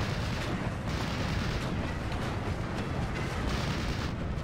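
Tank guns fire in the Steel Division 2 battlefield, with T-34 tanks engaged: a dense, continuous roar of booming shots and rumbling explosions, loud and sustained with no pauses.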